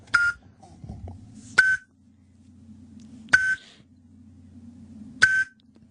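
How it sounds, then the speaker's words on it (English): A smoke detector with a low battery gives short sharp electronic chirps, four of them spaced about every two seconds, loud and close against a quiet room hum. "One of the smoke detectors, the battery."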